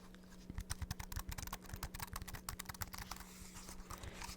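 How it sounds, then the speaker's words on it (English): Light, quick tapping and typing on a computer keyboard, close and quiet, with a steady run of soft clicks and occasional firmer key strikes throughout. "I'm gonna do some nice light tapping, maybe some typing."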